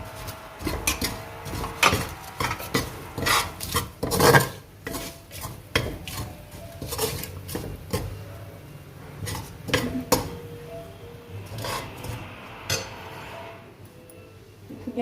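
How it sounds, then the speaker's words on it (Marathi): Jain goda masala and other dry spices roasting in a pan while being stirred, with a steady scraping of the spoon against the metal and intermittent louder clinks. "हे सगळे आपले कोरडे मसाले आता आपण छानपैकी भाजून घेणार आहोत।"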